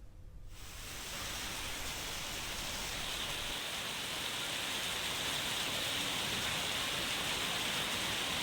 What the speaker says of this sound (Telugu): నిజామాబాద్ లో గంటన్నరగా ఏకధాటిగా వర్షం కురుస్తోంది.